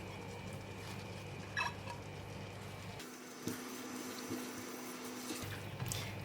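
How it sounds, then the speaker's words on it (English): Water poured into a pan of mee goreng basah stir-fry noodles with meat, sauce and chili, a steady close splashing and hissing wash that shifts partway through, with small clinks. "I'm going to add in the water now"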